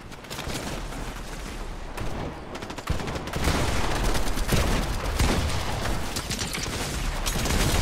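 Shotgun fire in a Fortnite match, a dense, continuous barrage of loud overlapping blasts that grows heavier partway through and stays intense to the end.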